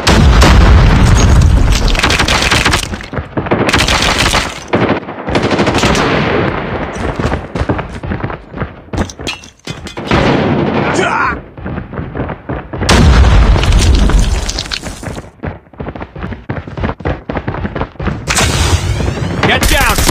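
Rapid gunfire bursts and heavy, booming grenade explosions from a Call of Duty match, loud and dense throughout, with short lulls between volleys.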